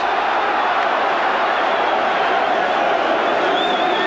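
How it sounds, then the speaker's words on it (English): A stadium crowd at a 1986 Leeds versus Australia rugby league match keeps up a steady, loud roar of cheering and shouting, a dense wash of distant voices with no single speaker standing out. "There's the crowd warming to this Leeds strong defensive effort on that occasion"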